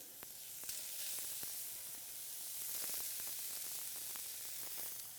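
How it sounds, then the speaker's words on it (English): Bacon sizzling in a pan, a steady crackling hiss with scattered sharp pops throughout, close and continuous. "start the bacon sizzling."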